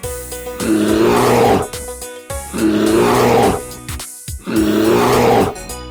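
A brown bear roaring, three long deep growling roars in a row, loud and close, each lasting over a second with short gaps between.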